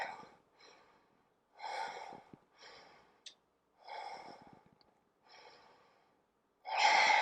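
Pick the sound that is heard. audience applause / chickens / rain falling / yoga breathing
yoga breathing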